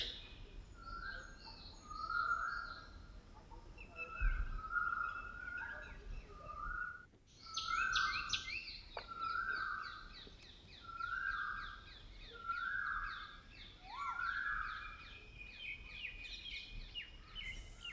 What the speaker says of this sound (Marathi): कोकिळाच आहे. ऐकू येते तुला?